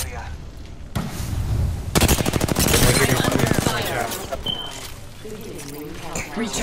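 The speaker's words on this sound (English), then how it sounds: "Opening fire." Rapid automatic gunfire bursts out midway through a Apex Legends match, a loud dense rattle lasting a couple of seconds before trailing off into game effects, with a character voice speaking over parts of it.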